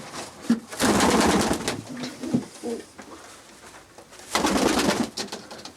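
Rock pigeons coo close by in two soft, throaty bursts separated by a quieter pause.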